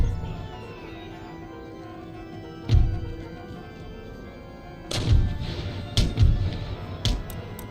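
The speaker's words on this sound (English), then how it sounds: "our cannon fire already took out one of their cannons" Cannon fire in the video game Empire: Total War battle, several deep distant booms and thuds, one isolated then a cluster of rapid blasts near the end over a quiet battlefield hum.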